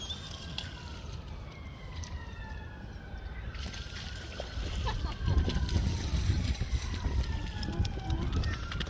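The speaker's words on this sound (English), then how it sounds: "There are multiple sirens going off." Several emergency sirens wail at a distance across flooded Worcester, their overlapping rising and falling tones drifting beneath a steady rush of water and wind noise.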